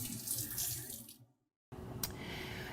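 A tap runs steadily into a sink during handwashing for food safety, briefly cuts off, then flows again with a splash.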